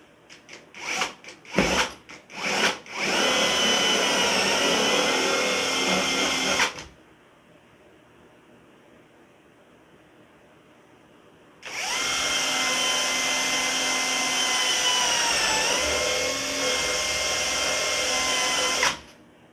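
A power drill bores into wood on a workbench while building a simple wine rack: a few short bursts, then a long steady whirring run, a pause with quiet room noise, and another sustained drilling stretch, loud and close.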